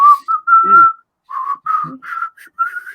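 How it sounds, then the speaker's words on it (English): Someone whistles a short, halting tune up close: clear notes in uneven bursts with brief pauses, plus a couple of low breathy sounds between phrases. "Terrible whistling."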